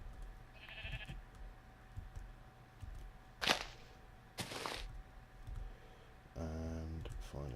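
Sheep in Minecraft Feed the Beast bleat several times, short wavering baa calls scattered through the stretch, with a longer bleat near the end, amid soft game clicks and two sharp whooshing hits.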